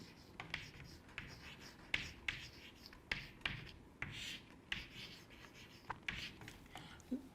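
Marker or chalk strokes on a board during a physics lecture on Lorentz transformations: a steady run of short scratchy taps and scrapes in quick, uneven rhythm, close and moderately loud, with faint room noise behind.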